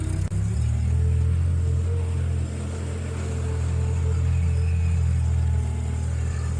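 A farm tractor engine revs up with throttle, a loud steady low rumble that holds strong with a slight dip midway and no voices.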